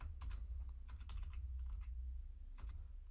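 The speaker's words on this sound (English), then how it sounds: "then I'll just type out "Hello World"" Quiet, close tapping of keys on a computer keyboard in short irregular bursts, over a low steady hum.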